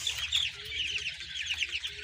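Jumbo quail birds, brown hens and a red male, call in a dense, continuous chorus of high chirps and clucks, close and steady throughout with no talking.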